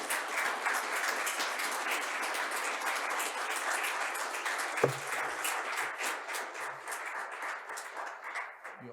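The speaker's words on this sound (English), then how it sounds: "We owed you this applause" An audience applauds after a lecture by Poland's climate and environment minister, a sustained full clapping from many hands that gradually thins out near the end, with a brief thump and faint low voices partway through.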